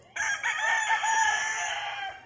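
A three-year-old Boston Roundhead rooster crows once, loud and close, in a single sustained call that trails off at the end.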